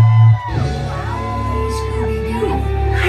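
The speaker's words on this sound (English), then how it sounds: "Round of applause!" A crowd at a club night in Canterbury yells, whoops and shouts to welcome a DJ onstage, loud and sustained over a thumping low electronic backing, with an announcer's voice briefly over the noise.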